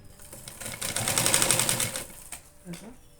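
Sewing machine stitching lace around a fabric bag, a rapid clattering run that swells, then slows and stops, with someone talking softly alongside.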